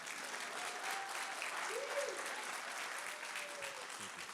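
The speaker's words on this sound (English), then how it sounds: "Now you can clap, please." An audience claps steadily at a university conversation event, a dense, even patter of many hands heard at moderate distance, with faint murmuring voices underneath.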